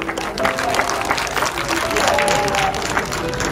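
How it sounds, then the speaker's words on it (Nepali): An audience applauds at a movie inauguration, a dense, sustained wash of clapping with crowd noise and some voices underneath. "सबैजनाले जोरदार ताली।"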